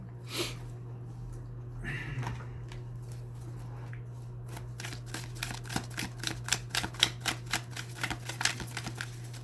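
Tarot deck being shuffled by hand, starting with a few soft taps and slides, then a quick run of crisp riffling card flicks growing louder near the end, over a low steady hum.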